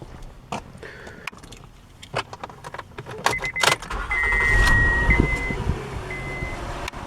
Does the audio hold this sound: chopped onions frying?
no